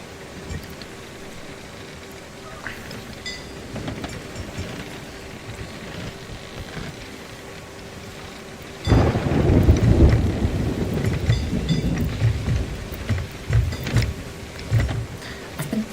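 A thunderstorm builds from faint rain into a sudden loud burst of rolling thunder and heavy rain about halfway through, staying dense and rumbling to the end.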